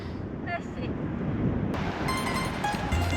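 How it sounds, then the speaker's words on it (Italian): Wind rushes steadily across the microphone at a picnic spot in De Hoge Veluwe National Park. The low buffeting is constant throughout, with faint high tones and background sounds mixed in. "È un po' ventoso"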